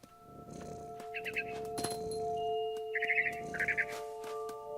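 Mother bird in the video game What Remains of Edith Finch, giving short bursts of bright chirps twice over a steady hum of game ambience, with no voices.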